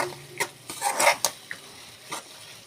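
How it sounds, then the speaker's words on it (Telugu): Mango chutney is stirred and mixed in a pan, giving a few soft, close scraping and clinking sounds from the spoon against the pan, with brief quiet gaps between strokes and no talking. "చట్నీ మొత్తాన్ని వేసినాక ఈ విధంగా మొత్తం తిరువాత అంతా కలిసే విధంగా కలపాలి."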